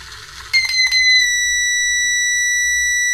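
A buzzer alarm on an alcohol-sensor engine-cutoff electronics project switches on after a brief rustle, holding a loud steady high electronic tone without pause to the end.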